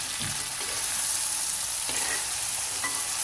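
Onion, tomato and okra frying in a pan with a constant loud sizzle, punctuated by a few stirring knocks and scrapes; no voices.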